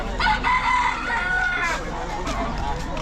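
A rooster crows loudly over a busy, noisy crowd at an outdoor pet market in Malolos, with hens clucking nearby.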